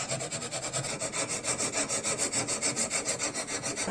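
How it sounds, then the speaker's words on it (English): A hand file rasps steadily across the bevel of a knife cut from an old saw blade, in even back-and-forth strokes that are close, harsh and continuous, with no talk. "Bevel filing."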